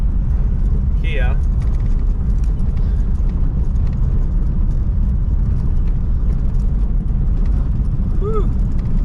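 A 1940 Mercury car drives along the road, its engine giving a loud, steady low rumble and road roar from inside the cabin, with a brief squeak near the start and another near the end.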